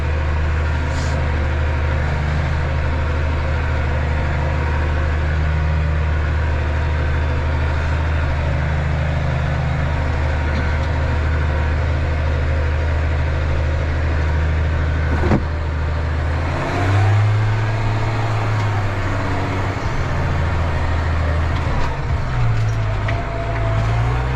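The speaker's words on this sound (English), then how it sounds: "It's quite surprising how much exhaust noise it does keep out, to be fair." Steady, droning Manitou telehandler engine noise heard from inside its closed cab, a continuous low rumble with slight shifts in pitch, fairly loud and unbroken throughout.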